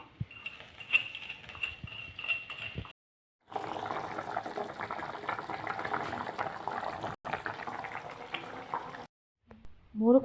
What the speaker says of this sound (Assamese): এইফালে কণী আৰু আলু বইল কৰি থোৱা হৈছে।